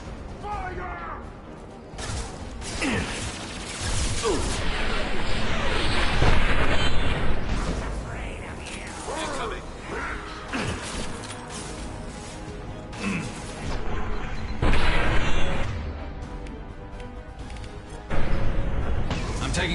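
Gunfire and explosions crash through a Mass Effect 2 firefight on Insanity difficulty, with repeated booms and bursts rising and falling over the whole stretch while in-game voices shout under the din.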